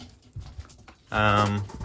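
A young racing hen pigeon gives a short, close coo lasting about half a second, after a stretch of faint rustling and small taps.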